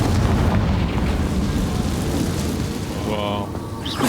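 Confringo fire spell from Hogwarts Legacy, a loud sustained roaring blast with crackling, rain-like noise that rolls on steadily and tapers near the end, with a brief voice briefly heard.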